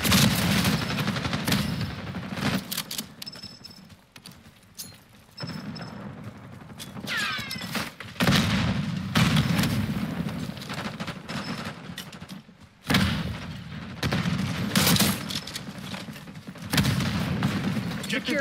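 A frag grenade and gunfire in the Black Ops 6 video game give repeated loud bursts, blasts and rattling shots in a busy, dense mix.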